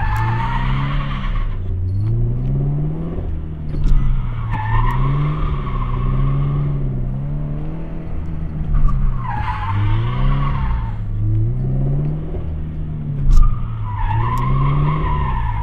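Car tires skidding and squealing through repeated side turns, with the engine revving in cyclic swells as the throttle is applied on exit, loud and close with no speech.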